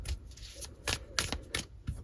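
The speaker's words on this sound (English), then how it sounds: "let's pull some cards and see what it is" Tarot cards shuffled and drawn during a reading, a series of close, crisp riffling and slapping bursts in an irregular rhythm, with no one talking.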